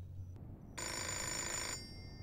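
A telephone in the Fahrenheit video game rings with a single sustained electronic trill lasting about a second, bright and steady against a quiet background.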